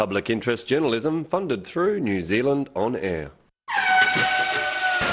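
A truck air horn blasts loud and sustained for over a second at the close of a furniture advert, right after a voice speaking.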